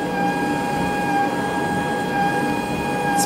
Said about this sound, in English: It's printing, y'all.